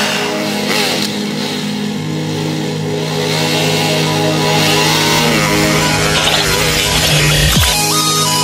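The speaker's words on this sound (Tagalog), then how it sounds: "Ito yung bagong motor niya." A young girl's small motorcycle engine revs steadily and loudly up close, with a rising rev near the end and background noise throughout.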